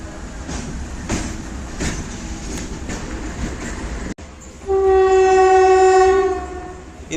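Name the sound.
express train passing with horn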